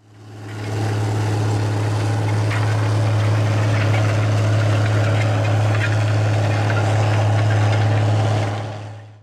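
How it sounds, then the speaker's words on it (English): A 480-horsepower Case IH Steiger 480 Quadtrac tractor pulls a 40-foot K-Line Speedtiller high-speed disc across a field, its diesel engine a loud, steady, deep drone that fades in and out with no speech. "This farm is running a 480 horsepower Case IH STEIGER 480 QUADTRAC, pulling a 40-foot K-line speed tiller high-speed disc."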